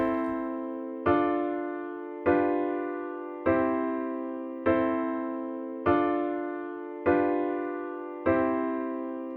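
Piano chords from the Addictive Keys plugin by XLN Audio, struck eight times at a steady pace of roughly one chord every 1.2 seconds, each ringing and decaying before the next, loud and alone with no voices.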